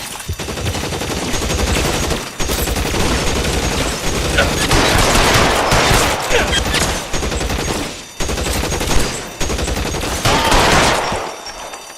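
Sustained suppressive gunfire in L.A. Noire, a dense, loud, continuous barrage of overlapping shots with brief pauses around the second and eighth seconds, filling the whole stretch with no voices.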